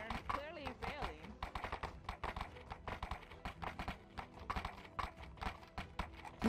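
Horse moving with rapid, irregular hoof clops, close and fairly loud, continuing throughout as voices talk over them.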